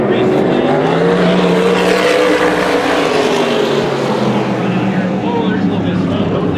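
Modified race cars roar around the Bullring Las Vegas oval in a heat race at the Fall Classic, a dense, loud blend of several engines rising and falling as they pass. A commentator's voice is also present.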